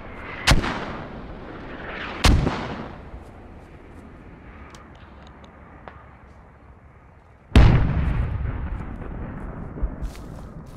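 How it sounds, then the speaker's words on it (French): Several loud, separate gunshots or blasts boom across a battlefield in the Squad military shooter game, each one trailing off into a long rolling echo, with faint distant pops between them. "Ça tire au nord de Bifcor."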